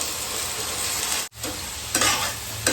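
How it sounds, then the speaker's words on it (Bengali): A spice paste of Kashmiri chilli powder, sugar, salt, turmeric and cumin, mixed with water, sizzles and fries loudly in a pan. Stirring and scraping run close throughout, with a brief break in the middle. "মশলাটা সুন্দর করে কষানো হয়ে গেছে"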